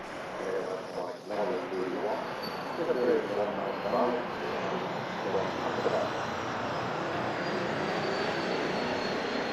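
A KLM Embraer E2 jet on short final at Manchester Airport gives a distant, steady engine roar that swells slightly while someone talks over it.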